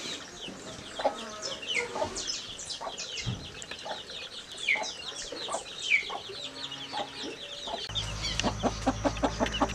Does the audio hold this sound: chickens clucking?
yes